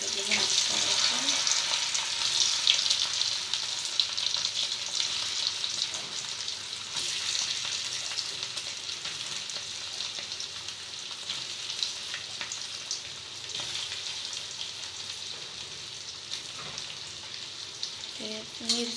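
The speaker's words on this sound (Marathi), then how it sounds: "बटाटे सोडलेत आता. बटाट्याची भाजी करायची." Potatoes dropped into a pan for a potato vegetable dish fry with a steady, loud sizzle that runs throughout, close by, with faint clinks and water-like hiss underneath.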